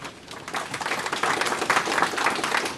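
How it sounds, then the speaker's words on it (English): A room full of people applauds, steady clapping that swells slightly and continues throughout. "So please give a warm round of applause for Virgil Renz."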